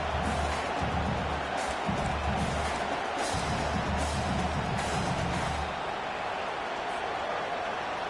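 Stadium crowd noise from the College Football 25 video game hums as a fairly quiet, continuous roar with a low rumble underneath.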